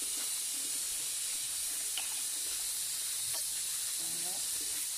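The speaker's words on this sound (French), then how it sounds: "Après maintenant, je vais mettre l'huile" Hot cooking oil hisses steadily in a pot for a beef pilaf, a constant close hiss with faint voice fragments in the background.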